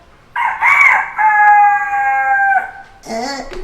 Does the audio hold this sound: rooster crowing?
yes